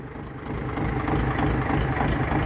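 A tractor engine strains while pulling a coconut tree, a loud low rumbling drone that swells after a moment and then holds steady, with no voices over it.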